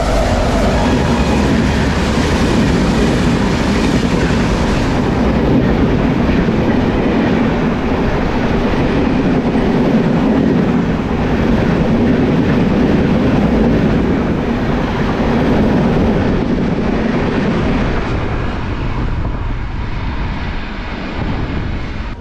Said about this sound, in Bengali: ফারাক্কা এক্সপ্রেস আসছে,